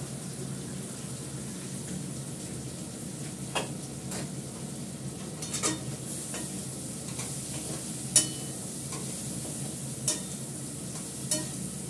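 Food sautés in a pan over lowered gas, giving a soft continuous sizzle under repeated scraping and clinking of a spoon stirring, with a few sharper taps spaced irregularly, close by and moderate in level.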